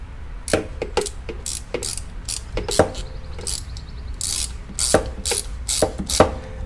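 A ratchet wrench tightens a bolt on a Kawasaki FR730V mower engine, giving a series of close, sharp clicking pawl bursts in irregular short runs with brief pauses between strokes.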